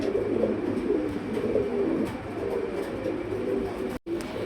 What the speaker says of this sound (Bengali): এটা আসলে পুতুল না এটা একটা কবুতর